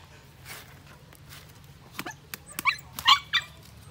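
Dogs give a few sharp barks and yips near a plant nursery, starting faintly and building to a cluster of louder, close barks toward the end, over a quiet background.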